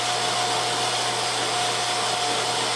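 A meat grinder whirs steadily as it grinds wild game meat of deer, elk, pronghorn, moose or caribou, a constant motor drone with a faint tonal hum and no pauses.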